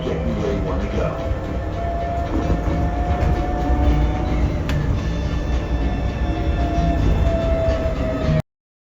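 Steady rumble of a Las Vegas Monorail train riding along the Strip, heard from inside the car, with a continuous low roar and faint whine throughout and brief talk in the background.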